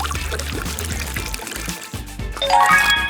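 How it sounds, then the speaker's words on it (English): Water poured into alginate powder and mixed, a steady close liquid pour and splashing that swells louder toward the end, with no voices. "Mix up some alginate with water."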